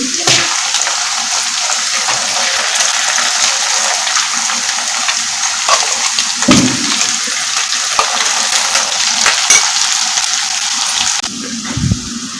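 Ground masala paste hits golden-brown onions in a hot pan, producing a loud, dense, continuous hiss and sizzle that stays steady throughout, with a few brief clatters.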